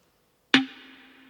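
A single snare drum hit in a beat being built cracks sharply and alone after a moment of silence, its bright body ringing out and fading with a short tonal tail.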